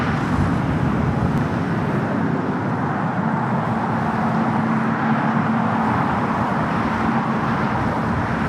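A 25-year-old Cargolux Boeing 747-400 freighter arriving at LAX from Luxembourg, heard as a sustained low rumbling engine drone with a faint steady tone, fairly loud and unbroken, with no speech.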